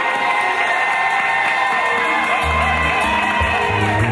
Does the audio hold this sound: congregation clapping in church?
yes